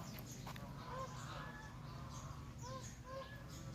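A flock of geese honks repeatedly in short nasal calls, several birds overlapping, against a steady outdoor background rumble.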